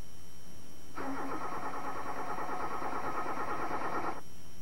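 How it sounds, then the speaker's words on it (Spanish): A car engine cranking on the starter for about three seconds, a steady rapid churning pulse that starts and stops abruptly, close and moderately loud, without anyone speaking. "mientras el motor está arrancando"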